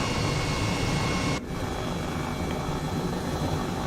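A helicopter in Microsoft Flight Simulator 2020 gives a steady engine and rotor drone with a faint whine, continuous and fairly quiet, with one brief dip partway through.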